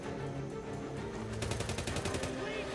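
Gunfire in the video game Redfall, a dense burst of rapid shots layered over loud game music and effects, with players talking over it.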